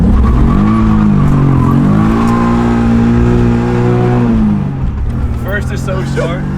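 A tuned BMW accelerates hard at full throttle, its engine note sweeping up loudly through the revs, then dropping off into a shift, heard from inside the car with a brief high squeal near the end.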